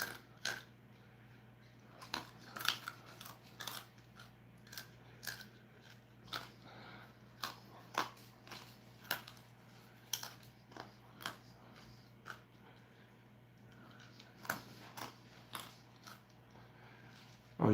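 Slow, moist chewing of fiery food during a spicy eating challenge, with soft crunches and bites recurring irregularly over a low steady hum, close and quiet, with no talking.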